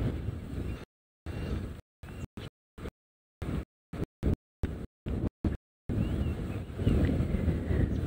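Wind buffets the microphone outdoors on a safari, a low, rough rumble that comes in gusts and gaps, strongest near the end.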